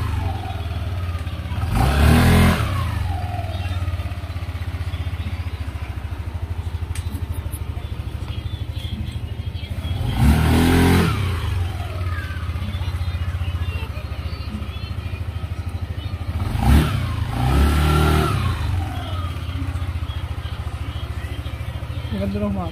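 A Yamaha Nmax scooter fitted with upgraded CVT springs revs up three times in evenly spaced bursts that rise and fall back to a steady idle, recorded close.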